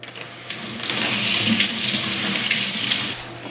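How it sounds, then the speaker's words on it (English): Steady running cold tap water splashes close by for a few seconds, a continuous broadband rush with slight shifts as leaves are rinsed under the stream. "you're going to want to rinse these really well in cold water"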